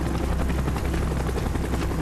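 A helicopter in the shooter game Call of Duty: Black Ops gives a loud, continuous rotor thrum with steady low chopping, close and unbroken throughout, with no talk.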